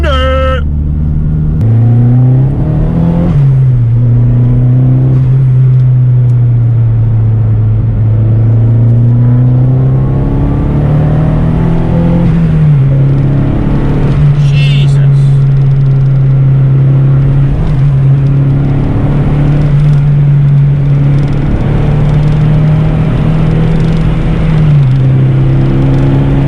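A Vauxhall Corsa B with a 2.0 16V C20LET turbo engine accelerates hard, its loud engine note climbing through the gears with a steady roar and rumble heard from inside the car, and a voice speaks over it.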